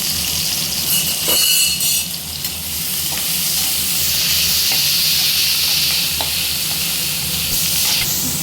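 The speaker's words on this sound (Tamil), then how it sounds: "எல்லாமே நல்லா பொரியட்டும்" Crab and onions fry in a pan with a loud, continuous close-up sizzle and hiss, broken by a few scraping stirs, with no voices.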